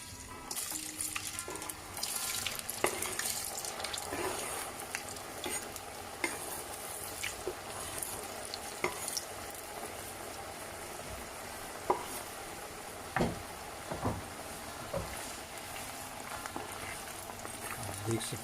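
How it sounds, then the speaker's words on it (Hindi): Potato fries frying in hot oil for homemade fish and chips, a steady bubbling sizzle with occasional clinks and stirring, while a person talks over it. "अब इंशाल्लाह हम जो है फ्राइज़ डालने लगे हैं।"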